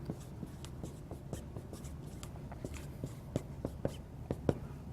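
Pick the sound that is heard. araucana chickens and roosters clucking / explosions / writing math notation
writing math notation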